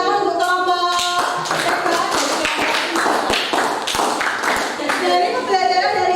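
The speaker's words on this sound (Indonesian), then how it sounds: "Terima kasih tepuk tangan untuk kelompok." A classroom of students in a teacher training lesson claps for a presenting group, sharp hand claps landing close and loud while children's and adults' voices talk over and between them.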